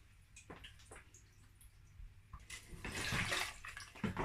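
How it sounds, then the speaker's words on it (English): After a few faint clinks, water pours steadily into a cooking pot for a couple of seconds, splashing loudly and close, while making green plantain porridge. "I'm going to be adding water."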